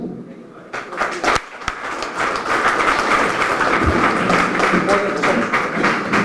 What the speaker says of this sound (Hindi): जोरदार तालियां, बहुत मेहनत।